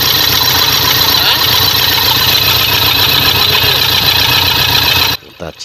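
Repaired Toyota Fortuner diesel engine running with a loud, steady idle rumble and clatter, cutting off abruptly near the end.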